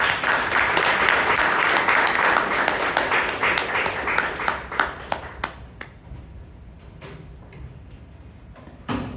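An audience at a Toastmasters club meeting gives a strong round of applause that tapers into scattered, separate claps before dying away into room quiet.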